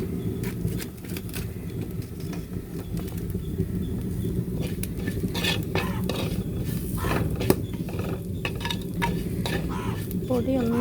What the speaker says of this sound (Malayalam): എന്നിട്ട് നമുക്ക് നല്ലപോലെ ഒന്ന് ഇളക്കി കൊടുക്കാം